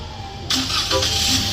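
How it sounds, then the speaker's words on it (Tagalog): A Toyota Avanza engine starts, a sudden jump from a low hum into a loud, steady close-up running engine with a brief rising whir as it catches. "pa-start natin yung makina"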